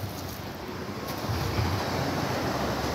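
Sea waves wash steadily against the shore in a broad continuous roar mixed with wind rumbling on the microphone, with no talk.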